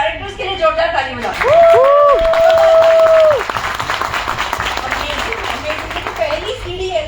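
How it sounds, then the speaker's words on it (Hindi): Auditorium audience clapping for company directors at a Modicare event in Satya Sai auditorium, crowd applause running throughout with children and other voices calling over it, loudest in the first few seconds. "सब सारे के सारे डायरेक्टर्स के लिए जोरदार ताली बजाओ"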